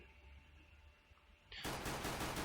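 A loud, sudden burst of sustained automatic gunfire from CS:GO cuts in after a quiet stretch of low background hum and continues steadily to the end, with no voices.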